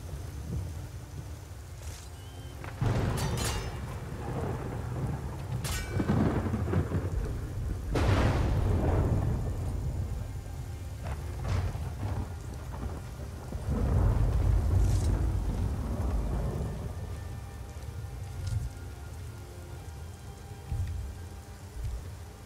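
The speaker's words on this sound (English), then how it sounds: "It's raining and there's no sun at all." Video game rain: steady rain patters alongside several deep rumbles of thunder that swell and fade, with a constant soft hiss throughout and no voices, in Skyrim.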